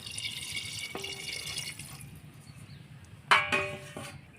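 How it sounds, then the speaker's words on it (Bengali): A little water is poured into a bowl for cooking mutton at home, giving faint trickles and drips under quiet room noise, then a brighter splash and sloshing near the end. "এবার দিয়ে দেবো সামান্য কিছুটা জল।"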